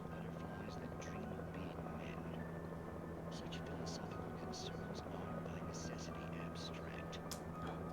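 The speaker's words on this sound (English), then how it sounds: "The helicopter's too loud." Steady helicopter rotor drone in the Alan Wake video game plays continuously throughout, with faint voices murmuring underneath.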